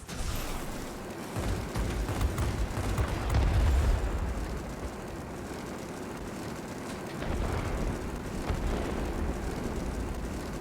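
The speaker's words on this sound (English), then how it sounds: "The enemy is launching rockets at us from the military base." Rumbling blasts from rockets fired off a military base in the World of Warplanes game, deep booming explosions swelling and fading over steady aircraft engine drone, with no voices.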